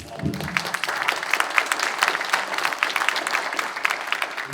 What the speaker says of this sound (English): Let's give Melanie another round of applause.